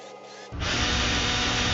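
A power drill starts up after a half-second of quiet hum, then grinds steadily and loudly through wood with no voices.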